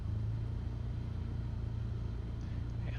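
A Cessna 172 piston engine idles in Flight Simulator 2020, a steady low, even drone with a constant hum that holds unchanged throughout, close and continuous.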